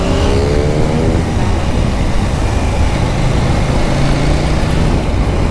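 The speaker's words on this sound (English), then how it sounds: "The engine just sounds so refined." A KTM Duke 790 parallel-twin motorcycle runs through city traffic in Manila, its engine droning and revving loudly and steadily close by.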